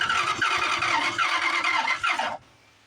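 A 1982 Dodge Ramcharger's starter cranks the engine in a continuous whirring, uneven grind for over two seconds, loud and close, then cuts off abruptly into near silence without the engine catching.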